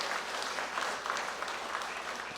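A church congregation claps together in steady, dense applause that holds for the whole stretch, somewhat distant and even in level.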